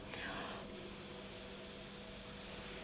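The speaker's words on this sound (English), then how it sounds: "quickly going to give that a quick spray" A spray bottle's sustained hissing spray starts after a brief pause and holds steady for a couple of seconds, close by and fairly loud.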